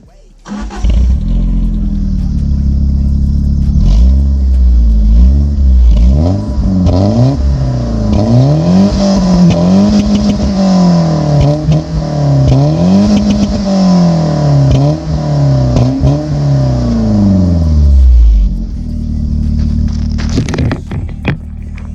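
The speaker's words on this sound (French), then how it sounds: "je vais vous faire écouter le bruit de la voiture" A BMW E36 engine revs up and down repeatedly at close range, its note climbing and falling in long sweeping bursts for about twenty seconds, loud and steady with no speech over it.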